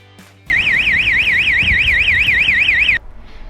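A Bosch wireless alarm siren blares loudly and steadily for about two and a half seconds, its warbling electronic tone rising and falling in rapid regular cycles before cutting off abruptly.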